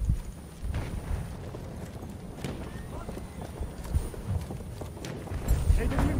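Galloping horse in the World War I shooter Battlefield 1 on a desert Sinai map, heavy rhythmic hoofbeats pounding continuously and close amid battle noise, with voices talking over the top.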